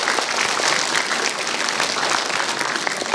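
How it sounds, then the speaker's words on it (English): An audience at a scholarship award ceremony in Karbi Anglong applauds, a dense, even wash of many hands clapping throughout, with no speech. "Shall we give a good round of applause for everyone here?"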